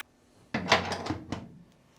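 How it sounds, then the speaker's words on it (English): The front hood lid of a Porsche 911 with a backdate hood latch is shut, giving a close thump followed by a few short rattling knocks as the latch settles, then quiet. "then close the lid and see what happens"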